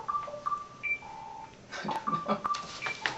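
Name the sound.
mobile phone ringing or beeping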